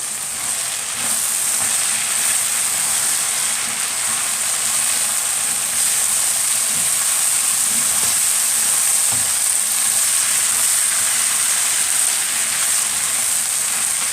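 Colored bell peppers and two hot chili peppers fry in a pan for a mixed vegetable tray dish, giving a loud, dense, continuous sizzle with soft stirring scrapes underneath.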